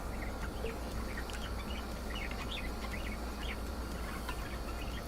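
Pet birds chirping on a perch, small scattered tweets and chirps over a steady broadband hiss of room noise, fairly faint throughout.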